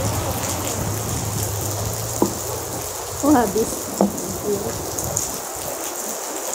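Rain falling steadily with a continuous pattering wash and a few sharper drips, under a brief spoken remark and faint background voices.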